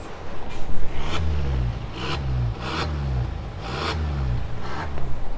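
A Seat Leon FR 1.4 with a full exhaust and tuning software runs in its quiet mode, a low, muffled engine drone that swells and dips in several regular pulses as the revs rise and fall.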